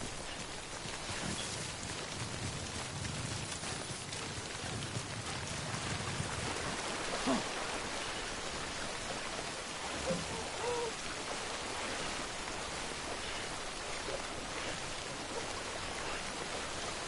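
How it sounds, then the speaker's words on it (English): Steady rain in the video game Death Stranding, a dense even hiss of falling drops that continues throughout with no talk over it. "Why is it raining, man?"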